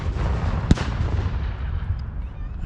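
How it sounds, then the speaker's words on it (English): A single sharp, loud cannon boom at a Civil War reenactment in Decatur, Alabama stands out against a steady rumble of outdoor background noise. "each one answered with cannon"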